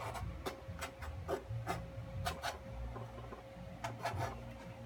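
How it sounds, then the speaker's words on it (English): A small knife scratches at acrylic paint on a lakeside cattail landscape painting, giving a run of short, close rasping strokes in an irregular rhythm over a faint steady hum, with no talking. "Get a little knife and start scratching it."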